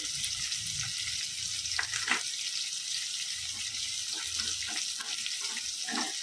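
Tomatoes for chicken tikka masala frying in a pan, a continuous soft sizzle broken by repeated scraping and knocking of a spoon as the mixture is stirred, with no voices present.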